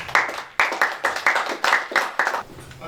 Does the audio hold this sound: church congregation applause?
yes